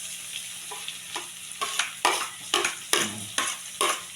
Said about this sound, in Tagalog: Para yung aromatics niya, mag-isa-gisa na natin yan.